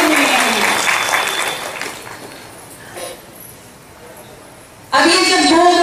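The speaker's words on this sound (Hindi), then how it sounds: "तो एक बार अपने लिए ताली तो बजाओ" An audience claps at a Hindi spiritual gathering: loud applause fades out, a quiet stretch follows, then a fresh burst of clapping starts abruptly, with someone speaking over it.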